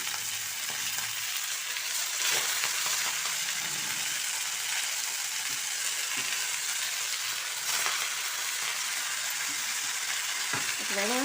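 Green chillies fry in a pan with a steady, loud hiss and crackle that runs unbroken throughout, alongside occasional stirring scrapes.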